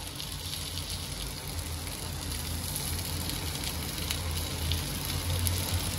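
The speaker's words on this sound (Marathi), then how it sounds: "किती मस्त आपलं चांगलं दोन्ही साइडनी फ्राय होतंय" Stuffed bitter gourd (bharli karli) fries in oil on a flat tawa, giving a soft, steady crackling sizzle that runs quietly throughout with no talking.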